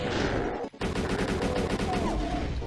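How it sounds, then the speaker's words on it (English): Rocket launcher fire in the Doom level Neo-Bronx Rumble, heard amid a dense, continuous wash of game combat noise with a brief dropout partway through, loud throughout and with no talk. "Let's just throw one rocket up there."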